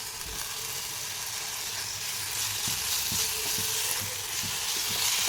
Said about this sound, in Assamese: পাইনাপলৰ টুকুৰাকেইটা কেৰামেল কৰি লওঁ অকণমান।